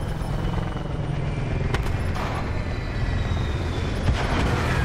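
Helicopter in a video game, a continuous loud rotor rumble and whir holding steady throughout, with faint clicks and no voices.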